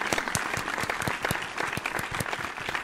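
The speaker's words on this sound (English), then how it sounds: "Round of applause." A few people clap together in close, distinct, slightly uneven claps. The sharp individual hits sound near and continue steadily for about three seconds.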